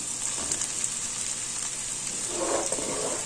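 Soaked poha added to potatoes frying in a pan for batata poha, heard as a steady close sizzle with soft shuffling and a brief stir of movement toward the end, no talking.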